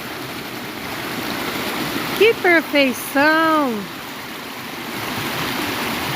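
Steady wash of a creek flowing beside a farm trail, a continuous rushing water bed heard close, with a voice speaking briefly over it midway.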